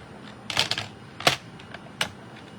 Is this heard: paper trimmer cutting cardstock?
yes